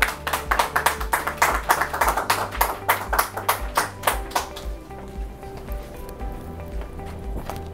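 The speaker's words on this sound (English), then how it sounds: "Come and give them a round of applause as they come." Audience at a press conference clapping as guests come forward, a burst of rhythmic, fairly loud claps over a low thumping beat that fades out after about five seconds, leaving a quiet hum of the room.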